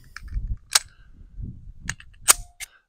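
A Ruger Security 9 Compact pistol fires several shots outdoors at a windy range, a few sharp, distant-sounding cracks spaced unevenly over low wind rumble.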